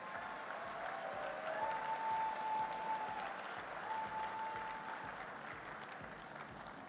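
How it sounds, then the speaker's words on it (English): Crowd applause for strongman athletes at the Arnold Classic and Arnold Strongman Finals, a steady wash of clapping from a large audience holding for several seconds, fairly distant with a faint tone running through it. "Let's have a round of applause for these athletes working to reach pro status."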